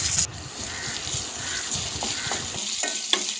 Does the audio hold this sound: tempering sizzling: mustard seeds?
yes